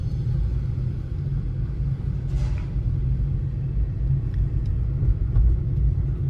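A car driving and turning on a narrow mountain road, a steady low engine and road rumble heard from inside, with a few faint clicks and no talking.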